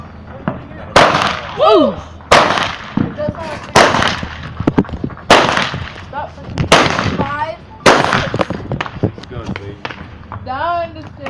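Fireworks going off outdoors in a rapid series of loud, sharp bangs and booms, roughly a dozen over several seconds, with people shouting and talking excitedly between the blasts.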